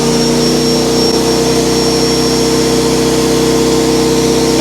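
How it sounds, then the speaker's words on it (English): A shop vac runs on power from a lightweight 4000-watt PROYAMA generator, giving a loud, steady, unbroken whine and hum that holds at the same level throughout. "Start with the shop vac."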